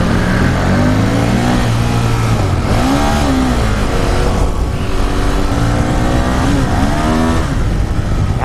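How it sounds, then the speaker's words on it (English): A Ducati Monster 1200R V-twin motorcycle revs and accelerates loudly during a test ride, its engine note climbing in repeated sweeping pulls between gear changes, close and dominant throughout. "This is a V twin or L twin as Ducati makes them."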